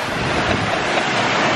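Wind rushing and waves surging around a sailboat surfing at 17 knots on a transatlantic passage, a steady loud broadband roar with no talk.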